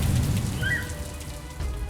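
Rain falls steadily as a soft, continuous hiss under a low rumble, fairly faint and even throughout, with a brief thin high tone passing briefly near the start.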